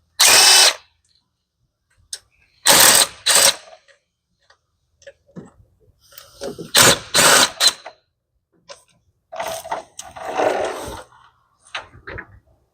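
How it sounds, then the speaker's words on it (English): An impact wrench removing intake manifold bolts on a Nissan Xterra fires in several short, loud bursts separated by silences, with small clicks and handling noises between them. "The impact makes it easier."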